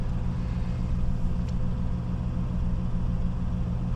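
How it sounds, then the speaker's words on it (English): Truck-mounted generator running nearby at a truck stop, a steady low droning engine hum with an even rumble, continuous and unchanging, with no voices. "it's like somebody's generator on their truck or something started up"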